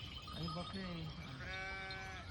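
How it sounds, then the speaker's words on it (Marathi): Several sheep bleat in quick succession among a flock travelling with a pilgrimage procession, close and clear, a wavering call followed by another longer one, with a voice nearby. "हे पूर्ण मेंढ्या आहे मित्र"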